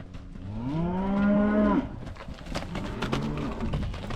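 Hereford cross calves moo nearby: one long, rising bellow, then a shorter, lower moo after a brief pause, with faint outdoor background noise.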